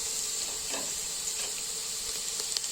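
Beef sizzling in a hot pan while making ragu: a steady, close, bright frying hiss with small crackles and pops throughout.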